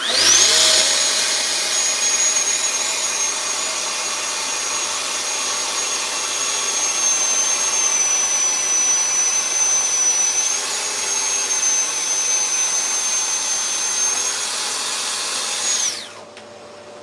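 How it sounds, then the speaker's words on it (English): A power saw fitted with a brand new blade cuts through wooden chopping boards in a workshop, a loud steady high whine running continuously for about fifteen seconds before cutting off abruptly. "Got a brand new blade on her. She should be cutting nice."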